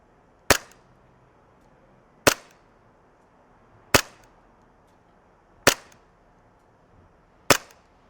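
An EMG Hudson H9 green gas blowback airsoft pistol firing 0.20 gram BBs across a chronograph: five single sharp cracks, evenly spaced about two seconds apart, each standing alone against near silence.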